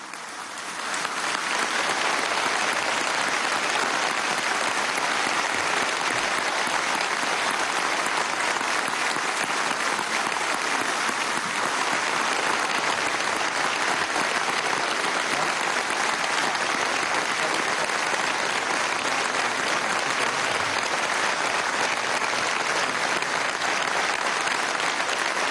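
Sustained, dense applause from a large audience at a judicial ceremony opening the judicial year, loud and steady for the whole stretch with no break.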